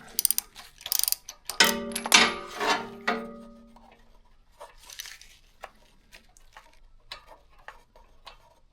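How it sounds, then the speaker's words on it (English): A ratchet turning out the spark plug on a Toro Time Cutter mower, with sharp close clicks, a short burst of louder metallic scraping and ringing early on, then quieter scattered ticking. "Okay, and you ratchet it out."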